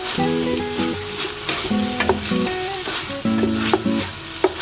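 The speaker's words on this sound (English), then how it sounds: "Okay, so we'll just give that a good stir." A spoon stirs a mince sauce for lasagne in a hot pan, producing a close, continuous sizzle with repeated scraping strokes and clinks against the pan.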